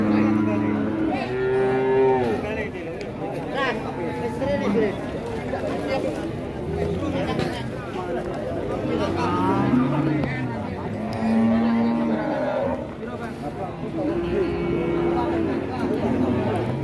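Cattle lowing at Tuban cattle market in Indonesia, several long moos at close range rising over constant talking and crowd chatter from traders around them.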